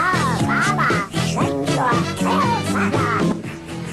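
Donald Duck voice impression from a 1976 song, a human voice imitating a duck with garbled, raspy quacking phrases in quick rhythmic bursts over a loud disco backing track.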